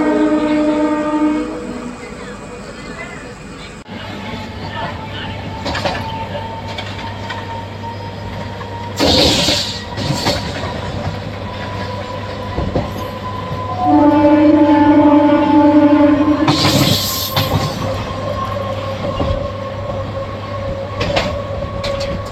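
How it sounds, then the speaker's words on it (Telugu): A BCN goods train of covered wagons rolls past on the line from the Visakhapatnam side near Dwarapudi, a loud steady rumble of wheels with horn blasts near the start and again midway. "బ్యాక్ 9తో గూడ్స్ ట్రైన్ అయితే వస్తుందండి"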